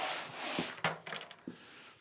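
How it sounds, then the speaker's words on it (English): A painted wall is sanded by hand during room painting, with several short, quiet scraping strokes at close range and pauses between them. "Now we just want to make sure that we're sanding this until it's baby smooth."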